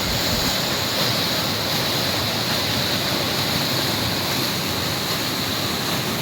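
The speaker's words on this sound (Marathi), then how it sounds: "प्रत्येक ठिकाणी वेगवेगळ्या पद्धतीत पाणी पडतं" Continuous, dense roar of water rushing over a weir nearby, steady and loud with no voices.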